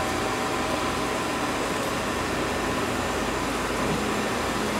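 Tschudin Swiss super-precision universal cylindrical grinder, 12 by 13.4 inch, running with its hydraulic pump and grinding wheel, a steady broadband mechanical whir and hum that stays even and continuous throughout, with no talking.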